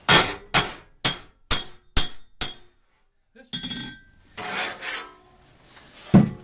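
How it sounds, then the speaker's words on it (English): A hammer strikes metal on a Trenton anvil to straighten it, six sharp ringing blows in a steady rhythm, then a pause followed by scraping and rattling metal handling and one last clank. "This anvil works fairly good for straightening things"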